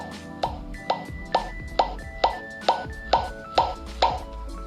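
Short electronic tones from a device as its volume is stepped up, about nine evenly spaced blips roughly half a second apart, each a brief bright ping over a low background hum.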